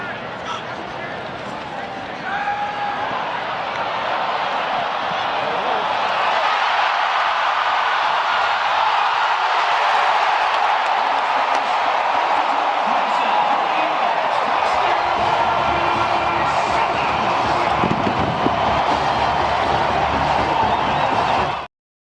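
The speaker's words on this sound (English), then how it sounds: "the murmur from the crowd was quite loud when that happened" Stadium crowd at a college football game, a loud sustained roar of murmuring and cheering that swells and holds steady throughout, with scattered whoops rising from the mass of voices.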